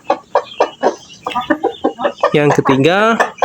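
A productive older laying hen kept as breeding stock clucks in a run of short, rhythmic calls close by, ending in a louder drawn-out cackle, while someone talks over it.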